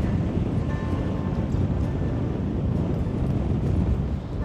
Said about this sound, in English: And it's mega windy.